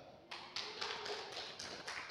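A single audience member at a church sermon claps alone, about seven sharp, evenly spaced claps that sound close and slightly echoey in a quiet room.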